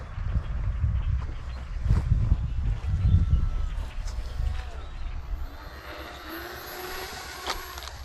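An H650 brushless 3000kv RC plane drones overhead then comes in for a soft landing, its motor buzz loud and rough at first before fading to a thinner whine with faint outdoor noise.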